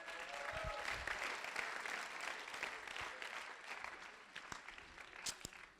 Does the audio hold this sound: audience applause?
yes